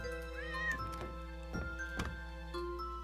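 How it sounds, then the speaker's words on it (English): A cat meows in a video game, with a rising meow near the start over steady game music and a few soft thumps. "Oh, kitty cat!"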